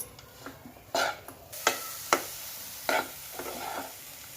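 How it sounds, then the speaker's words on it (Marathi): Sesame and jaggery mixture stirred in a pan for til gul vadi, giving a series of quiet scraping strokes at an uneven pace, close but soft, with no talk. "हे आता छान एकजीव होईपर्यंत आपण हलवूया."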